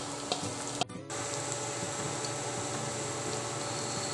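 Onion and garlic frying in a pan, a steady close sizzle of hot oil with faint stirring clicks and a brief dip in the middle, no voices.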